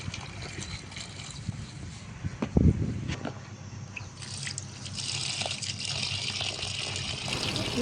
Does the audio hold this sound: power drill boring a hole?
no